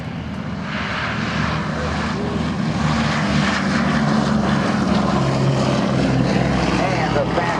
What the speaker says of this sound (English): taking off from the right, ladies and gentlemen, the B-17 Flying Fortress